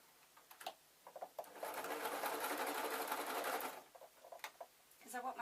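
A sewing machine runs in one steady burst of about two seconds while stitching a fabric pin tray, with quieter handling noises before and after. A brief burst returns at the end.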